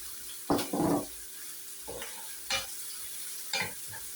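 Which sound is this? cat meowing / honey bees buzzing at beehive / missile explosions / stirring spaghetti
stirring spaghetti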